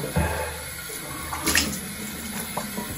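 Water runs steadily from a bathroom tap during a quick face wash, a continuous close splashing stream with a few brief louder splashes and no talk.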